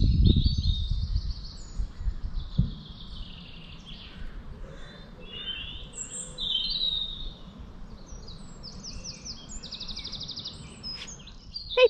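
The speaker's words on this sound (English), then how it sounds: "enjoy the bird song for a little bit" Birds chirp and sing faintly and at a distance on Falkland Hill in Scotland, trilling on and off over a low outdoor hush, with a brief rumble of wind or handling at the start.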